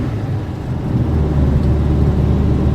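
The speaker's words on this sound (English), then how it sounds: "All the time, I'm just flooring it" A 1960 VW Beetle ragtop engine held at full throttle from the driver's seat, a steady loud low drone and whir that swells slightly and stays strong throughout.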